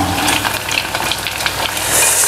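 Chicken pieces fry in oil in a decorative pan that tends to stick, giving a steady close sizzle and crackle with a few stirring scrapes throughout, no voices over it.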